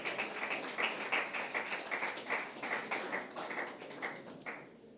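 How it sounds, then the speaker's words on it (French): An audience applauds at a banking-program ceremony: steady, rhythmic clapping with sharp, tappy hand claps that continue at a moderate level and thin out near the end. "On peut les applaudir."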